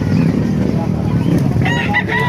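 A rooster crows loudly and close at a busy Bocaue tyangge market where fighting-cock breeds are sold, over a constant din of crowd noise.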